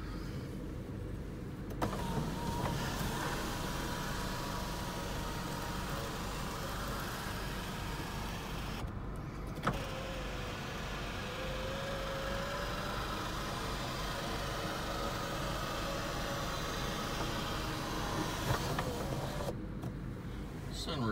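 A 2006 Mini Cooper S sunroof motor hums steadily inside the car over a low idling engine, with soft clicks where it starts and stops; someone talks briefly.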